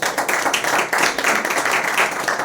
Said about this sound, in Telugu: ఒకసారి మనం అందరం కలిపి బ్రదర్ డేవిడ్ కొరకు చప్పట్లు కొడదామా?